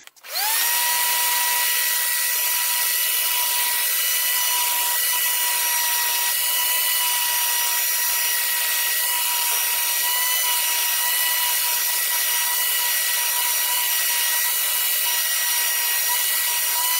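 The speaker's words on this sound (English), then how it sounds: "I'm gonna get the vacuum out and vacuum this out." A vacuum cleaner starts abruptly and runs while cleaning out the engine bay of a 2005 Chevy 2500 with the 6.0 engine, a loud, steady close-up whine with a constant hiss and rushing air, continuing unbroken with no talk.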